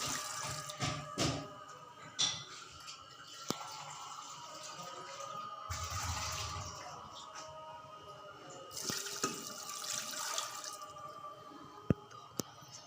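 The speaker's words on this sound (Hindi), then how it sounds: "ये पानी इसमें डाल रही हूँ मैं।" Water trickles and splashes into a cooking pot of lentils with intermittent drips and clinks, fairly quiet and close, with no talking.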